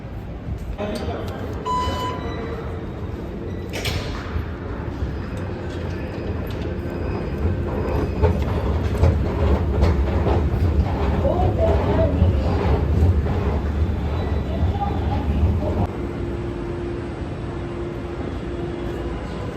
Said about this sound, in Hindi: जब ये मेट्रो आ चुकी थी